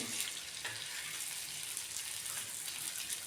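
Stuffed bitter gourd (karela) fries in a pan over medium heat, giving a steady, soft hiss and sizzle with no voice over it.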